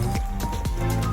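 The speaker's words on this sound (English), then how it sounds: "You keep squeezing to extract every of the pawpaw juice out from the leaf." Pawpaw leaves are squeezed by hand in water to press out the juice, making several rhythmic wet squelches close up over about a second.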